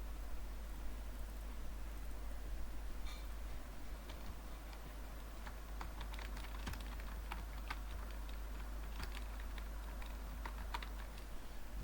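Steady typing on a computer keyboard, with scattered, irregular key clicks over a constant low hum and background hiss, close and moderately quiet, with no talk.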